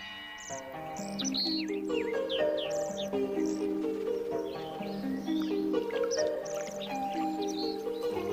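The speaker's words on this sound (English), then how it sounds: "On the rivers are birds that winter in China." Birds calling on a river in Russia, with many chirps and whistled calls overlapping steadily against a sustained tonal musical backdrop.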